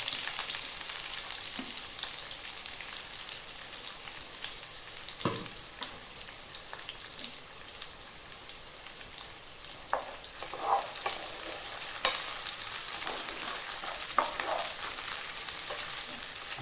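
Long-sliced onions sizzling in a pan for an oyster mushroom roast, a continuous soft frying hiss with occasional scrapes and taps of a spoon stirring, growing a little busier toward the end, no voices.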